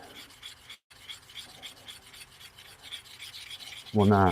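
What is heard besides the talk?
chisel rubbed on a sharpening stone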